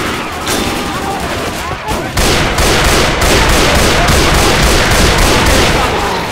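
Rapid, steady gunfire from Left 4 Dead 2 sounds at close range, with sharp repeated shots that swell into a dense, continuous barrage after a brief pause.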